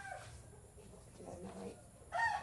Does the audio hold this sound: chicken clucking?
yes